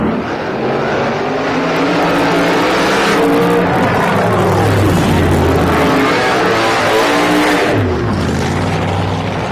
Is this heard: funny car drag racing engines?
yes